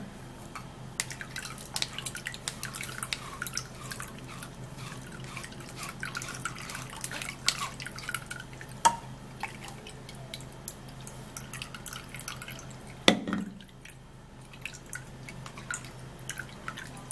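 Blended watermelon pulp dripping and trickling through a sieve, a steady patter of small close drips over a quiet background, with one brief louder splash near the end.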